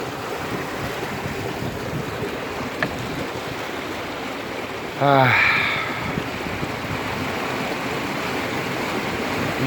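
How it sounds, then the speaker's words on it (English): Floodwater pouring into a property from a blocked, stopped-up drainage ditch, a steady rushing flow with a voice briefly breaking in midway. "So that water is running into the property because of that, from more than one direction."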